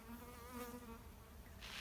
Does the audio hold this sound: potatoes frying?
no